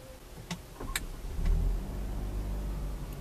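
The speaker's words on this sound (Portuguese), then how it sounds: "Ó, Equinox em funcionamento." A 2018 Chevrolet Equinox engine turns over after a few clicks and settles into a low, steady idle that continues close and even to the end.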